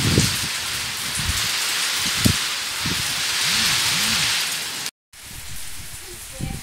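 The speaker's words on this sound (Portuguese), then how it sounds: "Chove forte em Guaçucê nesse exato momento." Heavy rain with wind pours steadily in Ceará, Brazil, a dense continuous hiss of drops on surfaces, with faint low voices and thuds beneath and a brief cut to near silence before the downpour resumes.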